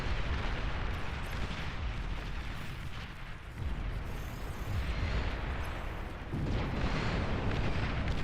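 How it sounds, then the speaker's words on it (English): Tactical nuke detonating in the real-time strategy game Beyond All Reason, a loud sustained rumbling blast with dense low roar that swells again near the end, no talking. "Is that a nuke? Tactical nuke"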